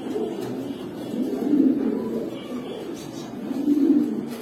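Big homing pigeons coo close by in low, throaty rolling calls, with two fuller swells standing out against a soft, steady murmur.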